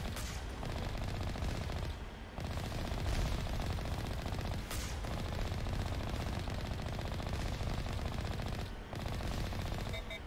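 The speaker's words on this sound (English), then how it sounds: "they are already shooting." Enemy gunfire in the video game Mass Effect: sustained rapid automatic shooting with dense bursts, loud and continuous, pausing briefly a couple of times before resuming.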